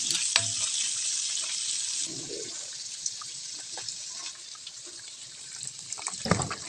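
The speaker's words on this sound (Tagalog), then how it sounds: "Lutuin lang natin yung karne na sasahog natin sa lumpia," Meat for lumpia filling cooks in a pan, producing a continuous bright hiss of frying with a few clanks and knocks of utensils, fairly close and steady with no talking.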